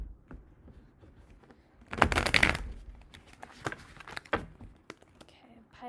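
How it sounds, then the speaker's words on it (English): A deck of tarot cards being shuffled by hand, a short burst of crisp riffling and flapping amid softer handling taps and rustles. "I'm just gonna quickly shuffle these."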